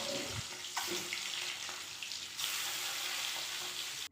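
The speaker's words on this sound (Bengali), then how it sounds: "এবার ডিমগুলিতে হলুদ লবণ মাখিয়ে ডিমগুলিকে ভেজে নেব" Eggs coated in turmeric and salt fry in a pan, giving a steady, soft sizzle with a few sharp clicks and stirring scrapes. No one speaks.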